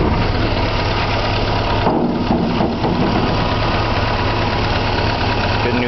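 A 1962 Willys CJ5 engine idles after start-up, a loud, steady close-up rumble with a brief dip in the middle before it settles back into an even idle.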